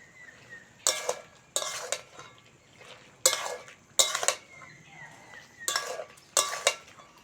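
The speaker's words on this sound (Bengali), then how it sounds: "এবার শুধু নাড়তে হবে, যত নাড়বো তত জলগুলো উড়ে যাবে আর শুকনো হয়ে যাবে।" Pumpkin, potato and drumstick vegetables stirred in a pan, a utensil scraping and clinking in six distinct bursts with short pauses between, close and moderately loud, with a faint sizzle underneath and no talk.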